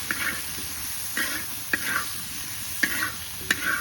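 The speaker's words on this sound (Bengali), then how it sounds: "এটা দিয়ে ভালো করে এখন কষিয়ে নেব মশলাটা" Ground coriander-chilli spice paste frying with potato and cauliflower in a pan, a soft sizzle punctuated by regular spoon scrapes and taps about every half second to a second, with no talk.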